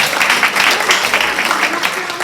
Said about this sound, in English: why don't you give a round of applause?